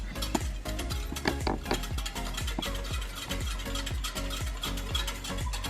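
A utensil stirs a flour mixture for turkey wing gravy, scraping against the pan in a steady repeating rhythm of short strokes, close and moderately loud with no talking.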